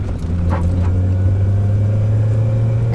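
A Honda CL7/CL9 with a Hondata reflash, heard from inside the cabin with its engine pulling under full throttle in third gear, a loud steady low drone holding throughout.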